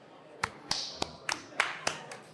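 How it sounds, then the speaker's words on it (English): A small audience gives brief, sparse applause at a live show in London's old East End, a handful of separate claps and taps spread over a couple of seconds, close and fairly clear. "Little applause."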